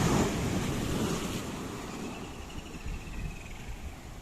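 Roaring sea waves crash on a beach in light rain, a dense broad wash of surf that is strongest at first and then settles into a steady roar, mixed with wind buffeting the microphone.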